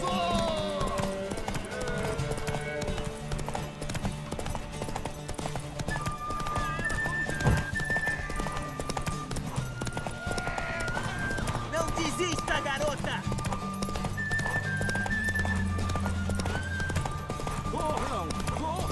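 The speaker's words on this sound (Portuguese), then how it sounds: "Montem seus cavalos." Horses gallop and whinny in The Witcher 3 during a race to a tower, with steady rapid hoofbeats throughout and neighs breaking through over music and ambient noise, while characters talk.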